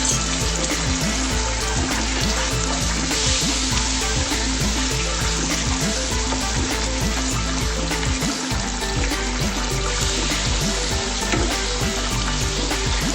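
Badami chicken masala sizzles and fries loudly in a pan after a little warm water is added, a dense continuous crackle with steady stirring scrapes and no voices.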